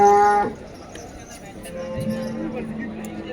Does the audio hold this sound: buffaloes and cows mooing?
yes